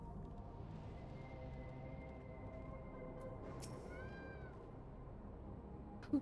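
A cat meows twice in Final Fantasy XIV, rising short calls heard over a steady low bed of game music and ambience, with a brief sharper sound at the very end.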